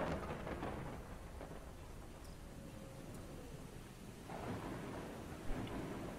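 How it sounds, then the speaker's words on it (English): Steady rain with rolling thunder in the city-building game Universim, a continuous dense wash of rainfall and low rumbling heard alone, with a brief swell of thunder near the end. "Oh, it's raining."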